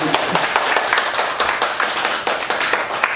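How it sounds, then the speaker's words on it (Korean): An audience claps steadily during a public talk, with dense, loud clapping and sharp individual claps standing out throughout. "박수 한번 주세요."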